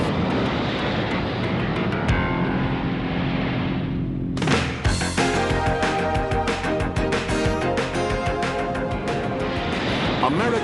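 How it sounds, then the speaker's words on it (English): A Grumman F-14 Tomcat jet roars loudly and continuously, its pitch and texture shifting partway through, with a voice talking over the engine noise. "the United States Navy relies almost entirely on one remarkable aircraft, the Grumman F-14 Tomcat"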